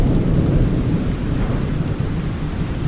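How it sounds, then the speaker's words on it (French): Heavy rain with rumbling thunder in the survival video game Under A New Sun, a dense, loud, continuous wash of rainfall over a low thunder rumble, with no voices. "Bah, il pleut encore par contre."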